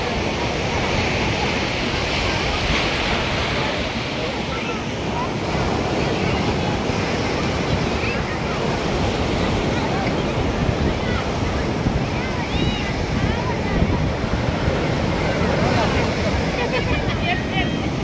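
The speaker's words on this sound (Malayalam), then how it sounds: "നല്ല പീസ്ഫുൾ ആയിട്ട് കാറ്റും കൊണ്ട് കടൽക്കരയിലിരിക്കുകയാണ്" Surf rolls onto a seashore in a continuous loud roar while wind buffets the microphone, the wash of breaking waves filling the whole span without pause.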